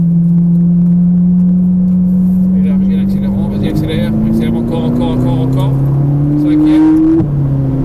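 A Ferrari being driven hard on a racetrack, its engine holding a loud, smooth drone that climbs steadily in pitch as it accelerates, with a brief dip as it shifts gear, while someone talks over it.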